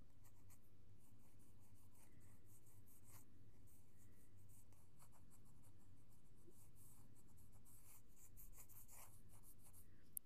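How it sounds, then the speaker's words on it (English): A light blue pencil sketching on paper, faint continuous scratchy strokes and rubbing at close range with short pauses between lines. "I'm just using a light blue pencil to sketch that out"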